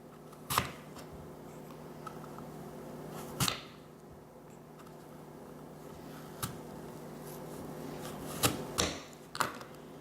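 A knife slicing through an apple, heard as a few sharp, crisp cutting snaps spread unevenly over a quiet background, with no talking.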